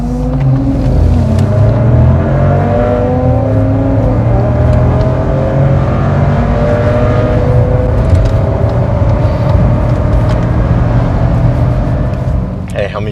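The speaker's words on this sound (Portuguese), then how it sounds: "foi bem legal dar essa aceleradinha aqui para vocês sentirem um pouco mais da potência" A Volkswagen T-Cross 1.0 TSI engine revs and accelerates with a steady, loud rumble, rising and falling in pitch, heard from close by with little else audible.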